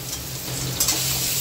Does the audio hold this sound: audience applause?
no